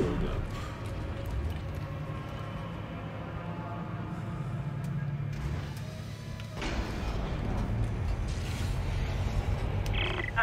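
Malfunctioning door in the video game Dead Space, producing a sustained grinding mechanical creak that runs throughout and swells louder after a brief dip midway, with speech mixed in.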